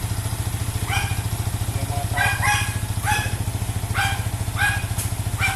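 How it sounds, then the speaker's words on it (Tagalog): Yamaha XSR 155 motorcycle engine idling after an oil and filter change, a steady, rapid low putter close by, with a dog barking in short bursts in the background. "Patatakbin natin ito ng mga 2 minutes para mag-rotate yung oil ng engine."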